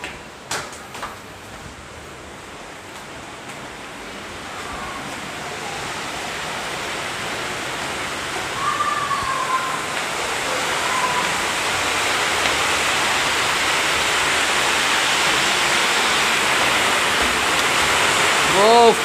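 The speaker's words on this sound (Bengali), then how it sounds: "ও প্রচন্ড বৃষ্টি" Heavy rain pouring steadily outdoors near a rooftop garden, a dense roaring hiss that builds louder over time, with a few faint voices and knocks early on.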